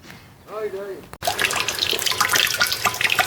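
A steady broadband rush of water streaming off a house roof at a garden allotment, loud and close, running continuously after a brief voice at the start.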